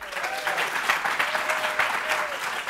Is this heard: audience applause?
yes